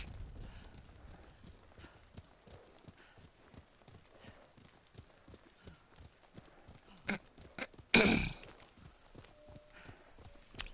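A horse in the samurai action game Ghost of Tsushima makes a steady, rhythmic clip-clop of hooves at a moderate level, with a heavier thump partway through.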